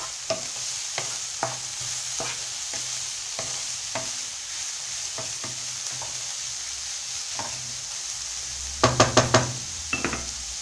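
Vegetables fry in a pan under a soft, steady sizzle, while a utensil taps and scrapes the pan at irregular intervals, ending in a quick cluster of knocks.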